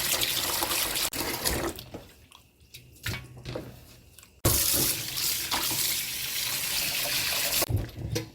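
Fresh oysters are rinsed by hand under a running kitchen tap, with steady, close water flow, splashing and squishing as they are rubbed, pausing briefly midway before the stream resumes strongly, no voices.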